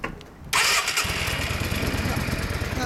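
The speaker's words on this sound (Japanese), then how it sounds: "ほんならこっちからエンジン音聞かせて" A Yamaha DragStar Classic 400 custom motorcycle fires up after a quiet moment, its engine catching with a loud burst and settling into a steady, throbbing idle close by.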